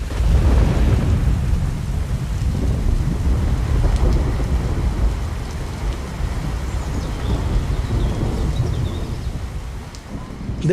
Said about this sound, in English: There was a heavy downpour in Patna on 29th of September 2019 when Chandrika Roy